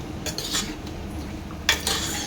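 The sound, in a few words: stirring yogurt into mutton in a bowl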